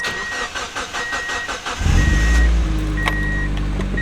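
A Mazda Miata race car engine cranks with rapid repeated starter chirps, then catches and settles into a loud, close, steady idle after a new fuel filter has been fitted.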